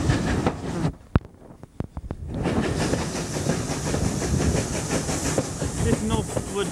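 Pannier tank steam locomotive on a heritage railway, the Severn Valley line, heard close with steady hissing steam and rhythmic chuffing and clanking after a few sharp knocks, loud and continuous.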